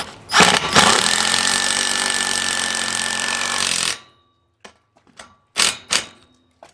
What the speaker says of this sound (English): Once you got the pilot hole drilled out, you're gonna come back with your lag bolts.